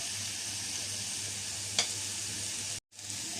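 Mixed vegetables with chili flakes fry in a pan as the base of a creamy white sauce pasta, a loud, even sizzling hiss close up, broken once by a brief stir and then a moment of silence.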